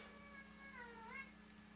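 A pet cat meows faintly indoors, one drawn-out wavering cry over a low steady hum.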